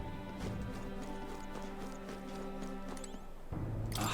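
Hooves of a horse pulling a carriage in a video game clip-clop steadily at a trotting rhythm over a low rolling rumble, moderately loud and continuous, ending with a brief burst of noise.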